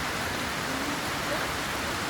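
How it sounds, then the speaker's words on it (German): Heavy rain falls in Ella, Sri Lanka, a dense, unbroken hiss of downpour that stays loud and steady throughout, with no other sounds standing out. "Es hat mega angefangen zu regnen."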